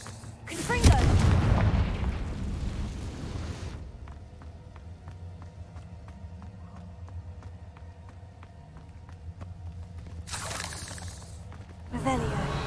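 A Confringo blasting spell explodes in Hogwarts Legacy with a loud, heavy boom right at the start, followed by quieter game ambience with faint tonal music and another burst near the end.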